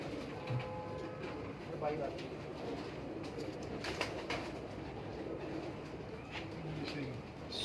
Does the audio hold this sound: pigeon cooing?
yes